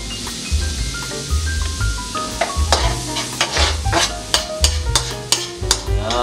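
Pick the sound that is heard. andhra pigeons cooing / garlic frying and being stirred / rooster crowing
garlic frying and being stirred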